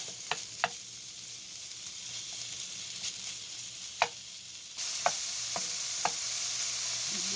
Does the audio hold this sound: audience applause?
no